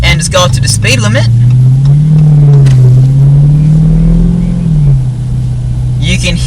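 A 2015 Chrysler 300 SRT Core's V8 pulls away from a stop, a loud, deep engine note rising and holding steadily as the car accelerates, with a voice talking briefly at the start and end.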